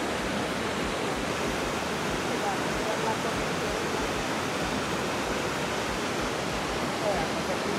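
Waterfalls at Plitvice Lakes National Park in Croatia pour in an unbroken, broadband rushing roar, steady and close throughout with no pause.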